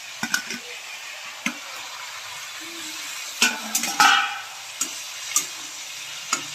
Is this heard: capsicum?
yes